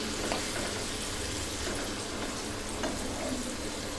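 Onion fries in a pan with an even, dense sizzle that holds steady throughout, close and fairly loud, with no voices.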